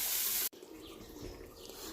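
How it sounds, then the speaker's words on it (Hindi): Water poured into a pan of minced meat and peas cooking for mattar qeema, a steady rushing splash that starts abruptly after a brief cut, close and moderately quiet. "तो अब हम इसमें थोड़ा सा पानी डालते हैं।"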